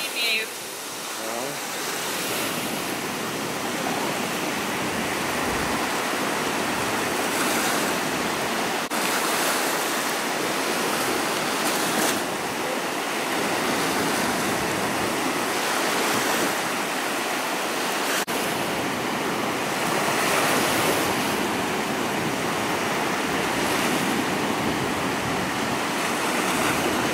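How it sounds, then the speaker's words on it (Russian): Baltic Sea waves break continuously on the beach at Šventoji, a loud, close, dense roar of surf with rolling swells that stays steady throughout. "Балтийское море."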